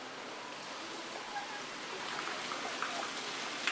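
Rain falls steadily outdoors, a dense, even hiss of drops that holds at a constant level with a few faint taps through the whole stretch, and no voices stand out.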